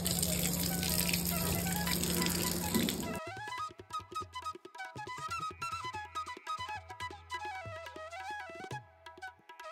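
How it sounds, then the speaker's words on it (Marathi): Water gushes loudly from a tap as feet are washed at the Ganpatipule temple, then cuts off and gives way to quieter sounds with voices. "आणि पाय धुवून घेतो."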